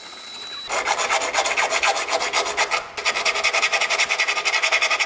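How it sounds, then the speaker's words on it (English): Razor blade scraping sound-deadening material off the bare sheet metal inside an E30 car body, a steady rhythmic rasping of quick repeated strokes, close and loud, with a brief pause midway. "I'm gonna have to go inside and clean it out with the razor"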